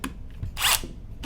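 A power drill's chuck being tightened onto a spade bit, giving a short whirring, ratcheting burst in the middle between quieter clicks and handling noises, close by.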